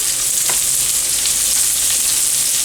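Onions and chopped baby portobello mushrooms, lightly salted, sizzle steadily in a hot pan with a dense, even crackle throughout and a brief stirring scrape early on.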